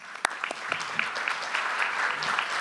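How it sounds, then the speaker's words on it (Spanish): Audience applause at a university education convention, starting with a few sharp individual claps and quickly building into steady, moderately loud clapping from a seated crowd. "Pido aplausos para él"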